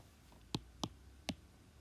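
Three separate, crisp clicks of calculator keys pressed one at a time for data entry, spaced irregularly over a quiet background with no talking.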